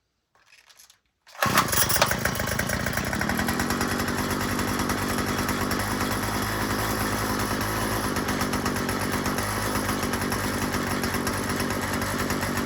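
A gas string trimmer that has sat unused a long time fires up from cold on choke after a brief quiet tug, then runs loud and steady with a raspy two-stroke buzz that holds to the end.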